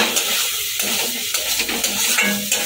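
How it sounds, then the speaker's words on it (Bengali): Food sizzles steadily in a hot pan while a utensil scrapes and stirs with short, repeated strokes. "এবার একটুখানি নেড়ে চেড়ে ভাজা করে নেবো"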